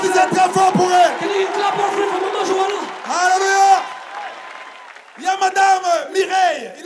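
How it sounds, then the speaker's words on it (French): A church crusade crowd cheers and shouts in bursts, with loud voices calling out and whooping between pauses, and some clapping beneath the cheering. "Applaudissez très fort pour elle."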